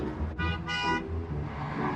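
Car horns on a road give two short honks in quick succession, close and clear over a low traffic rumble.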